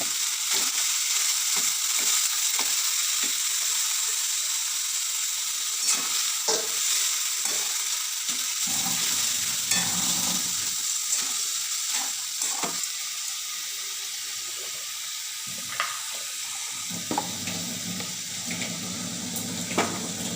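Boiled banana flower fries in a pan, giving a steady sizzle that runs throughout. Scraping and clinking from a spoon stirring the pan cut in repeatedly over it.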